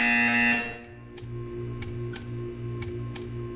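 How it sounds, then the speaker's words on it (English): A loud harmonic buzzer in Portal 2 blares for about half a second, then stops, followed by a steady faint hum and a series of regular ticking clicks. "You will hear a buzzer."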